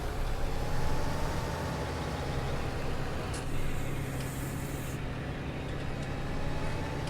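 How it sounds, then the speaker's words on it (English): A farm tractor on Gatehead Farm pulls off to one side, its engine a steady, dense rumble with a constant drone throughout, fairly close and unbroken, with no voices. "This is where the tractor pulls to one side."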